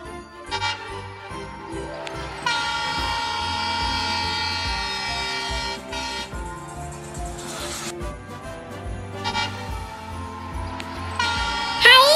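A train horn blares in two long, sustained blasts over low rumbling noise, loud and close.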